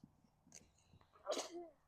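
A single quiet sneeze, with a soft breathy intake leading into the burst, close by in a calm setting.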